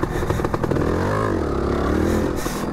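A 1992 Kawasaki 250 KX-E enduro motorcycle riding in second gear, its engine loud and close, buzzing and revving with rising and falling pitch, with some clatter.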